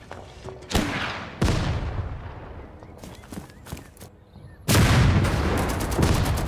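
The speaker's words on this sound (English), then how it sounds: "Enemy mortars." Enemy mortar fire in the Total Tank Generals war strategy game: several sharp blasts and scattered shot-like cracks, with a loud sustained barrage of fire in the final seconds, and no voices over it.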